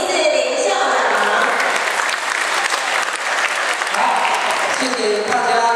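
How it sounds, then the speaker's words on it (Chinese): A ceremonial audience gives sustained, dense applause to welcome an elementary school principal at a parent association handover ceremony. The clapping fills the room, and faint voices are mixed in. "请各位嘉宾以最热烈的掌声欢迎我们北斗国小大家长0040校长"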